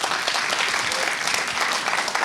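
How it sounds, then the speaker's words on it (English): A police lecture audience applauds the keynote speaker: a dense, even burst of many hands clapping, moderately loud and close, with no voices over it. "let's give our speaker a round of applause"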